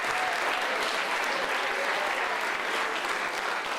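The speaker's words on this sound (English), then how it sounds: "Give yourselves a round of applause" A keynote audience at a summer program applauds itself, a dense, steady wash of many hands clapping at full strength throughout, with no voices rising above it.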